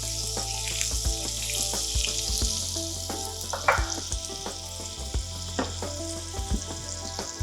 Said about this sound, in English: that sizzles like that